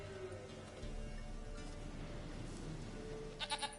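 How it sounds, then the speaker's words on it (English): A goat bleats in The Witcher 3, its cries rising out of a steady game ambience. A short cluster of bleats comes near the end. "You gonna kill his goat?"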